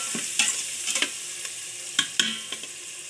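Chillies being stirred in a hot pan with a spoon, giving several sharp scraping strokes at irregular intervals over a soft background sizzle, close up and with no talking.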